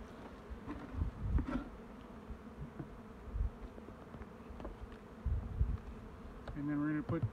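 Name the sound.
honey bees buzzing at an opened hive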